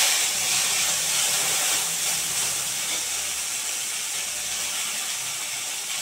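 Roasted peanuts and coriander leaves fry in a pan with a constant close hiss and sizzle that holds steady throughout, with no talk over it.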